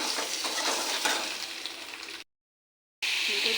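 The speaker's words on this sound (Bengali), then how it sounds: "আলুটা ভাজা হচ্ছে" Potatoes fry in oil in a pan, giving a soft, steady sizzle with faint stirring and scraping, broken by a short gap of silence before the frying resumes.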